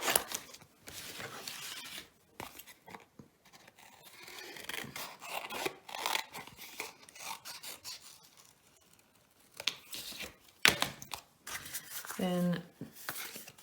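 Scissors snip through paper while cutting out spaceship wings for a grade-school craft, with close, uneven rasping cuts in bursts, separated by pauses and brief voice sounds.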